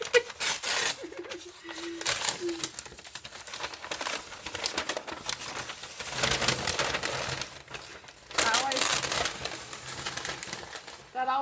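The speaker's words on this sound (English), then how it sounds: "I'm ripping the paper." Wrapping paper being ripped off a Christmas present, with repeated close crinkling and tearing bursts in uneven waves, someone speaking over parts of it.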